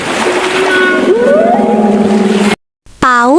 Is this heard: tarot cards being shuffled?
no